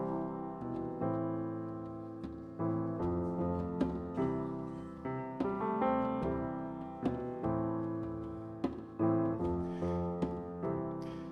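A sustained, rich harmonic drone accompanies a hymn in a church service, with steady chord-like tones and soft rhythmic swells recurring throughout, close and moderately loud with no talking.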